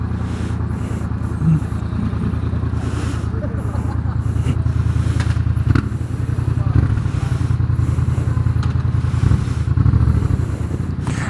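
A Yamaha MT-07 motorcycle fitted with a Firetong exhaust rides around a city block, its deep throbbing engine note loud and constant throughout, heard from the rider's position with wind noise and faint clatter.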